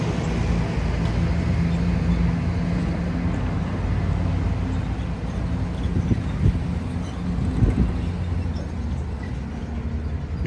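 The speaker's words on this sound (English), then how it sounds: "Gotta show the tram car some love" Disney World tram car rolling past outdoors, a steady low rumble and drone holding for about ten seconds with a couple of brief knocks near the end and no talk.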